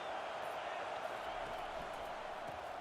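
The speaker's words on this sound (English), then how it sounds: "This crowd bringing the energy and noise early." Stadium crowd roar from a college football video game, a steady broad wash of many voices held at an even level throughout, with no single calls standing out.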